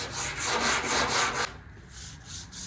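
Body filler on a custom cowl hood panel for a 1983 Chevy G20 is sanded by hand: rapid, rhythmic back-and-forth rasping strokes up close, easing briefly before lighter strokes resume.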